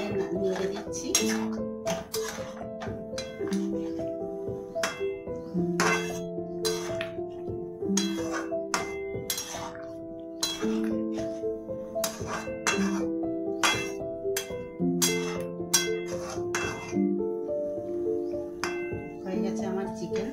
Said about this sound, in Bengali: এবার একটু চিনি দিয়ে নেড়ে দিচ্ছি